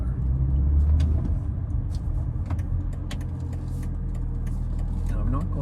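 A BMW E46 M3 drives on a public road, heard from inside as a steady low engine rumble and road noise at an even, moderate level.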